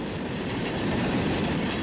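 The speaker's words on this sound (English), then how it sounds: "coal train coming up from the Coletto Creek coal plant" A loud, continuous rumble of a coal train rolling past close by in Shiner, Texas, with a steady roar and rattling of wheels on track.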